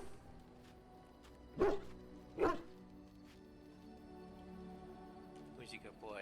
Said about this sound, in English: Who's a good puppy?